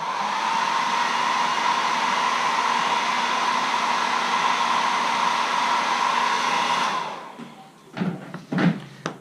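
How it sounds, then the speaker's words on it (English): Hair dryer drying paint on a carved wooden caricature letter opener, a loud steady whine for about seven seconds, then switched off, followed by a few knocks and handling noises. "I'll hit that with the dryer"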